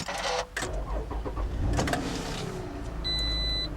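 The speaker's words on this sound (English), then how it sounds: "push the button to start the engine" A 2010 Toyota RAV4 V6 engine starts with a push-button ignition: a brief whir, then a steady low idle, and a thin electronic chime toward the end.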